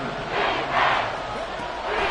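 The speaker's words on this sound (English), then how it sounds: "This crowd trying to force a false start here" Stadium crowd noise from an American football video game, a steady, loud roar swelling slightly as fans try to force a false start on third and inches.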